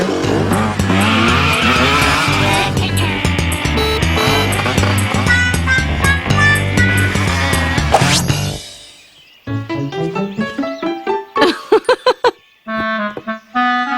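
Cartoon car sound effects: a loud, continuous engine roar for about eight seconds, cutting off into a series of bright musical stings and short chimes, with no talking.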